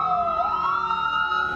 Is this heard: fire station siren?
yes